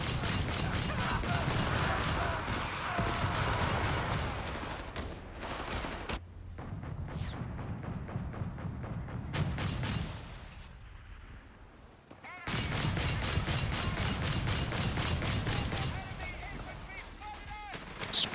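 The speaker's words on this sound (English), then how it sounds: "A lot of shots hitting the building though" Rapid gunfire and heavy battle noise in a Company of Heroes 3 match, dense volleys of shots over an ongoing roar, easing briefly mid-way before resuming intensely.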